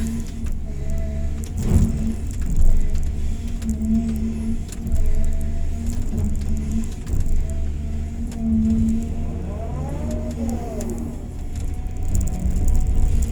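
Heavy diesel engine of a fuel tanker truck arriving at a site where an excavator and dump trucks work, a steady low rumble with a rising whine near the end, no talk.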